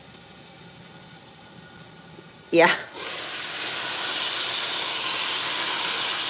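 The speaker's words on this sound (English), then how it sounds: "you can hear my chicken sizzling here" Chicken in a pan is flipped: after a quiet stretch comes a brief clatter, then a loud, steady hiss of sizzling that swells and holds close by, with a short spoken word near the start.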